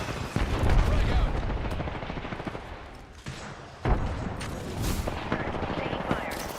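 Video game gunfire, with bursts of rapid shots and sharp reports crackling and booming through the fight, close and loud, followed by a quieter gap and another volley.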